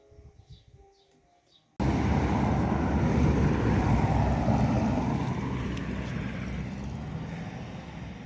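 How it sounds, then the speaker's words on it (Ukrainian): A Soviet Zaporozhets car drives past outdoors after a quiet opening, its engine and road noise rising into a loud, steady rumble that fades slowly as it moves away. "радянський автопром поїхав. Запорожець."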